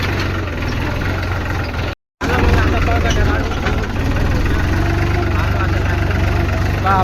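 A tractor engine idles steadily in a low, continuous rumble, loud and close, broken by a brief dropout near two seconds before the running engine resumes.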